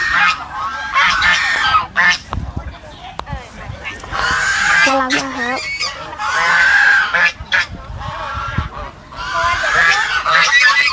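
Loud, harsh quacking and honking from a group of geese nearby at a cafe, in repeated bursts with short pauses.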